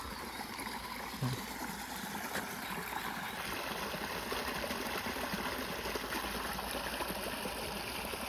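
Continuous wash of flowing stream water, a soft steady rushing and trickling with no voices, fairly even throughout.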